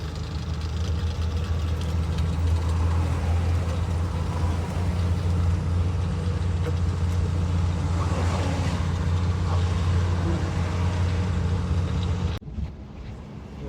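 A vehicle engine labours steadily as it climbs a slope on a rough city road in Visakhapatnam, a loud continuous low drone that holds for most of the time before cutting off abruptly near the end.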